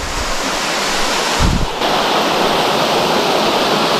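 A waterfall in Romblon during the dry season roars as a loud, continuous rush of falling water, with a brief low thump partway through.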